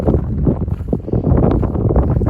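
Heavy wind buffets an unshielded microphone outdoors on farmland during sowing season, a loud, continuous low rumble with gusty fluctuations and no speech.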